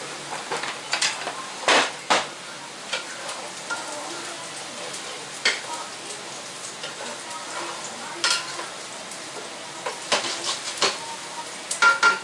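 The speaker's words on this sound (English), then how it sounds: "Now we've got the browning of the onion." Onion browning in a pan for shrimp and grits, sizzling steadily and crackling, broken by scraping stir strokes and clinks from a spoon against the pan, close and clear, with no talk.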